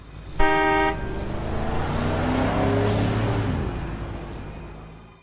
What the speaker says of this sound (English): A car beeped as it raced past exactly where I would have run to